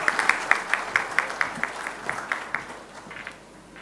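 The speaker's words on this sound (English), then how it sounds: "Let's have a warm round of applause" Applause from the audience at the inaugural function of a freight forwarders' convention, a moderate run of claps with a few sharper beats that thins out toward the end, fairly quiet overall.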